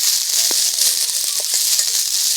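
Chopped onion and two green chillies frying in oil with black cumin for an okra dal, a steady loud sizzle with scattered crackles and pops throughout, no voices.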